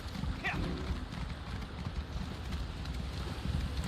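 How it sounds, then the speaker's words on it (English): Horse hooves clip-clop at a steady walking pace while riding in a video game, heard close and moderately quiet over a soft windy background. "let's get on the horse."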